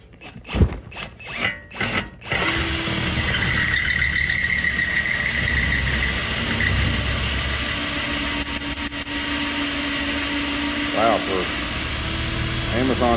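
Bridge reamer drilling a hole with Tap Magic cutting fluid, preceded by a few sharp thumps, then a sustained whirring power-tool drone with a faint squeal, a voice talking briefly near the end.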